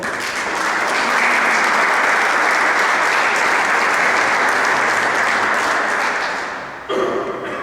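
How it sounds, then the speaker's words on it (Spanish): Warm, dense applause from an audience at a book presentation on the fundamentals of government, a sustained wash of many clapping hands that swells and holds for several seconds before tapering off abruptly. "Un aplauso para él, por favor."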